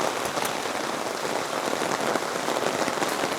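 Heavy rain pours down on a village with apartments in China, making a dense, constant hiss of drops striking surfaces, close and uninterrupted.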